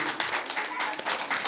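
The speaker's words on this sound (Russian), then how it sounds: "Вот так, аплодисменты." A small group on a school excursion in Kolomenskoye Park claps in uneven, scattered bursts, fairly faint and brief, with voices mixed in.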